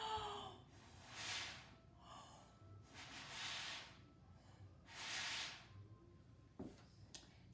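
Breath blown hard through a drinking straw at an object up close, several airy hissing puffs in a row with pauses between them, faint and soft.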